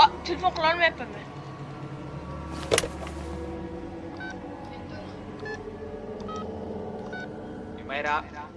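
Touch-tone telephone keypad beeps from a phone dialing a number, short tonal beeps spaced through the clip over a steady room hum, with a burst of talk at the start and end.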